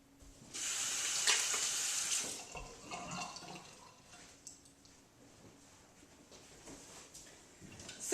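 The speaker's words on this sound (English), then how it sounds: "So let me wash my hands." A tap runs as hands are washed, with a steady rush of water for about two seconds followed by softer splashing and dripping, close and moderately loud.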